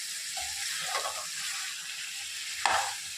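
Chicken is stirred into a sizzling masala in a pan for a chicken tomato curry. A steady frying hiss runs throughout, with a few soft stirring scrapes and one sharper clack of the spoon near the end.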